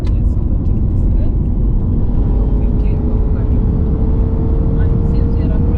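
A Subaru Impreza drives on a road between Kenya and Rwanda as it overtakes another vehicle, with a loud, steady engine drone and road roar heard from inside the car and a slowly rising engine tone.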